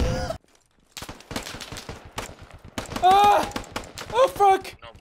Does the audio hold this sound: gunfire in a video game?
yes